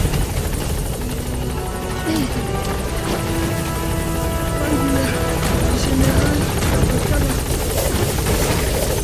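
Support helicopter arriving at a landing zone in Metal Gear Solid V, a loud, continuous rotor roar with steady chopping throb, holding close throughout.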